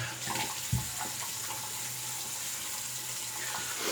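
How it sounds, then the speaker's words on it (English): Warm water runs steadily from a bathroom tap during a shaving routine, a soft continuous hiss and patter with a small knock near the start, fairly quiet and without talk. "I have the warm water basically ready to go here. Just let it run for a second."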